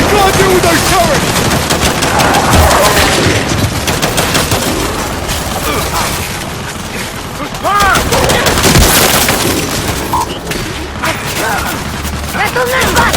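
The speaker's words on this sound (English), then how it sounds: "We can't deal with those turrets!" Turret gunfire in the Gears 5 video game, loud sustained bursts of automatic shots and impacts pounding continuously across the scene, with voices shouting under the barrage.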